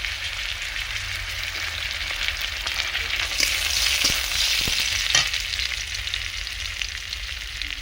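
Chopped garlic and five-spice seeds frying in mustard oil, giving a close, continuous hissing sizzle with a few faint clicks and taps of stirring.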